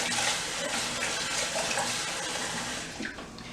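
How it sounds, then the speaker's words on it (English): Cool tap water runs from a kitchen faucet over rice being rinsed in a bowl, a steady, close splashing gush that holds for a few seconds before easing slightly. "just regular cool water out of the faucet."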